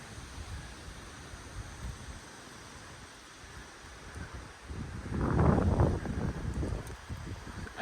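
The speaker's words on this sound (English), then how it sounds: "It's rain, heavy rain." Heavy rain driven by strong wind during a Labor Day windstorm at a house, a steady rushing hiss that swells into a louder, closer burst near the end.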